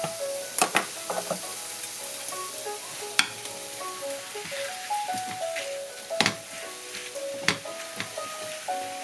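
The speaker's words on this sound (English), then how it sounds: "We're gonna kind of break this up and mix it all together" Rice being stir-fried with bok choy, sausage and egg in a hot pan, a steady sizzle under repeated clacks and scrapes of a utensil against the pan, close up, with no one talking.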